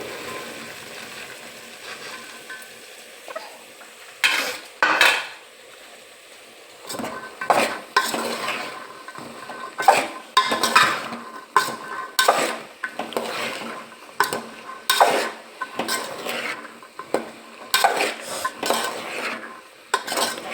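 Chickpeas go into a pot of cooked tomato and get stirred, with repeated scraping and clinking of a metal spoon against the pot over a low sizzle, in irregular bursts with pauses.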